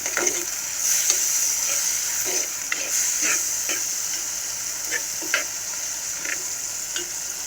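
Chopped tomato sizzles steadily as it sautés in a hot pan with occasional scraping and stirring clicks from a utensil, moderately quiet and close.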